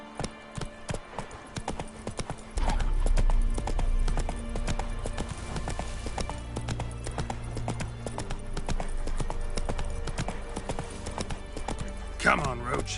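Hooves of Roach, the horse in The Witcher 3, clip-clop in a steady rhythm, growing heavier and louder after a quieter start, with a voice speaking and a short whinny near the end.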